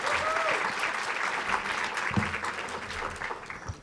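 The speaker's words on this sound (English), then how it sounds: "Let's all give Kathy Porter a round of applause." Applause from the audience at a mayors' small business conference, a steady crowd clapping that holds at an even level for about four seconds, with a faint voice underneath.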